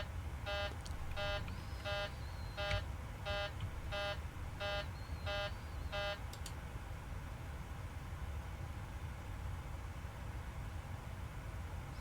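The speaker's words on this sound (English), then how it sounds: "That's what that alarm was about." A light aircraft's cockpit warning for switched-off air conditioning beeps in about nine evenly spaced electronic tones, loud and insistent over a steady engine drone, then stops while the drone carries on alone.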